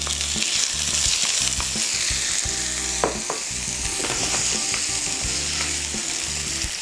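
Tomatoes fry in a hot pan with a steady, loud sizzle, crackling and popping throughout and broken by a few sharp clinks of utensils, with no voices.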